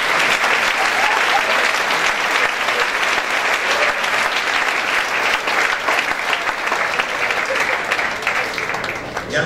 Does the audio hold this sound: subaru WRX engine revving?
no